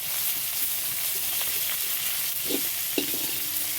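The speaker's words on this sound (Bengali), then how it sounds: "আলু পটল ভাজা হচ্ছে" Steady oil sizzle of potato and pointed gourd frying in a pan, with a few soft clinks of stirring partway through.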